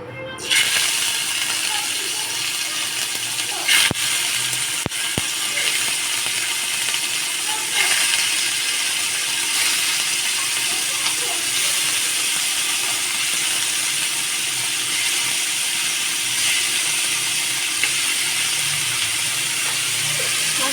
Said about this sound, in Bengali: এখন ভেজে নেবো ভালো মতন করে